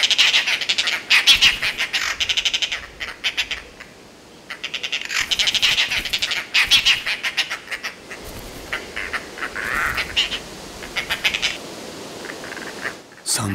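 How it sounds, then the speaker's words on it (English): Dollarbirds in forest give repeated harsh, rattling cackling calls in fast bursts, loud and close, pausing briefly between series before starting again. "The whole forest knows when dollar birds arrive from New Guinea."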